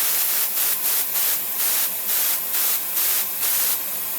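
An airbrush sprays lacquer cleaner in short, repeated bursts of loud airy hiss, each a fraction of a second to half a second long, with brief near-silent gaps between them and no voices.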